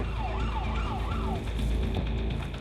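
Ambulance siren wailing in a rising and falling sweep on a Scottish emergency call, loud and close over steady road and engine rumble.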